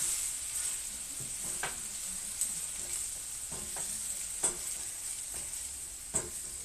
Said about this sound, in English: You are deglazing all the goodness off the bottom of your pan from your onions and your garlic.